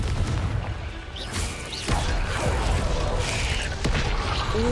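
In the Hogwarts Legacy video game, the Confringo spell fires off with loud booming blasts and bursts layered over dense, noisy game sound effects and rumbling, with sharp hits and whooshes throughout.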